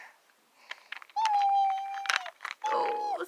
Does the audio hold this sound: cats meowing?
yes